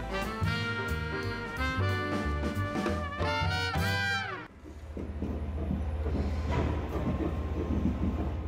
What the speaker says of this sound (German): Sein Modell rollt aus eigener Kraft über die Schienen.